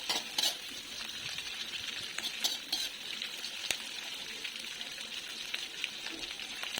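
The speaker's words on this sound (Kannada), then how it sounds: "ನೋಡಿ, ಮಧ್ಯ ಮಧ್ಯದಲ್ಲಿ ಈ ರೀತಿಯಾಗಿ ನಾವು ಕೈ ಆಡ್ತಾನೆ ಇರಬೇಕಾಗುತ್ತೆ. ಆವಾಗ ಮಾತ್ರ ಪ್ರತಿಯೊಂದು ಅಗಳು ಸಹ ಚೆನ್ನಾಗಿ ಫ್ರೈ ಆಗುತ್ತೆ" Puffed rice (mandalu) is tossed and fried in a pan for a Ballari-style milk mandalu tempering: a soft continuous crackling sizzle, fairly quiet, with occasional light clicks of a spoon stirring, no voices.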